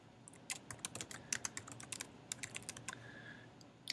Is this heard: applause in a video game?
no